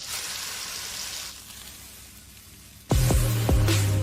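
Bacon strip sizzling in a hot iron pan, a steady crackling hiss that fades quieter midway, then a sudden louder burst of sizzle with low thumps near the end, close and without talk.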